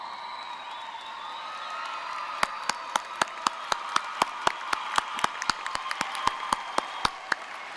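A commencement ceremony audience breaks into applause, sharp individual claps rising over a soft crowd murmur and continuing steadily for several seconds at moderate distance.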